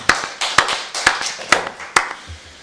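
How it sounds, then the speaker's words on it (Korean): Hands clap in church worship, about six sharp, evenly spaced claps in a steady beat, each loud and distinct with quieter taps between, and no speech. "우리 박수로 하나님께 영광 드리겠습니다."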